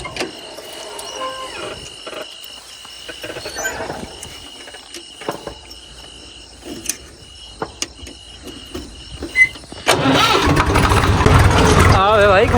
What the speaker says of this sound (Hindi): मैं इस ट्रैक्टर को बाहर निकालूँ क्योंकि जितना ज़्यादा गीला होगा उतनी इसको दिक्कत आएगी चढ़ने में।